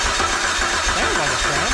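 A used engine cranks on a test start, giving a steady mechanical churning that does not catch, with a person talking over it.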